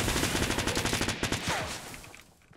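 Rapid burst of close, loud gunfire in Fortnite, a fast rhythmic string of shots over about a second and a half that fades into a brief tail.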